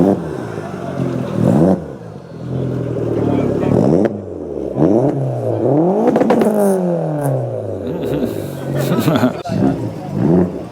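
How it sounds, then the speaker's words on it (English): An Astra Turbo pulls away at a classic car gathering, its engine rising through a couple of revving pulls that sweep up and fall back, with crowd chatter and other cars around it. "Off goes the Astra Turbo, making Astra Turbo noises"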